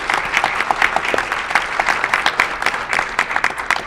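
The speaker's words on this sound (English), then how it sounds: "Let's give an applause to Legal Aid." Dense audience applause before a theatre performance, many hands clapping steadily and fairly loudly for a few seconds without voices.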